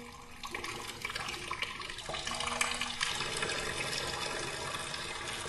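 Water gushes steadily into a half-full basin in a German crime radio drama, a continuous rushing pour that grows slightly fuller midway and carries on alone without voices.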